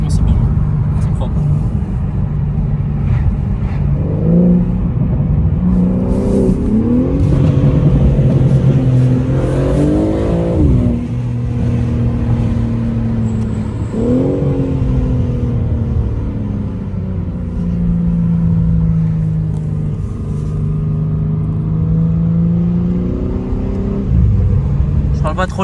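A 2021 BMW M3 Competition, rated at 510 hp and 650 Nm and set to its M1 exhaust mode, rumbles loud and close, repeatedly accelerating with rising revs and then settling, with occasional voices over it.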